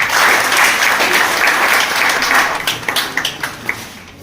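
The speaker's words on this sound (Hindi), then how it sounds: "मैं इस कर्मचारी के लिए एक बार जोरदार तालियां से स्वागत करना चाहता हूँ" Loud, dense applause from a crowd at a workplace retirement ceremony for an employee, sustained throughout and thinning toward the end into a few scattered sharper claps.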